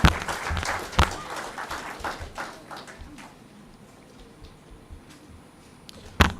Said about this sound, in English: perhaps we can give a rounding applause to Krista